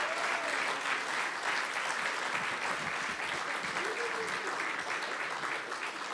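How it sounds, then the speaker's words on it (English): Steady, dense applause from a sizable crowd, loud and continuous throughout with no pauses. "Let's give one more round of applause for all these great performers."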